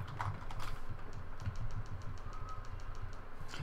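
Quiet, steady typing on a computer keyboard, a quick run of light key clicks at an even pace with no talking.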